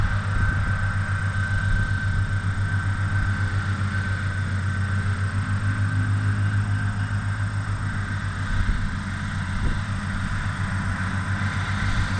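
Mower engine running steadily while mowing a pasture, a loud, continuous droning rumble close by with no breaks.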